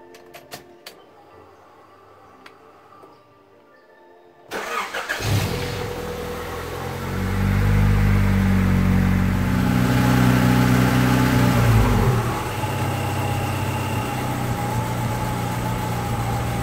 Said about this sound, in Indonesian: Sekarang kita nyalakan mesin Siverio.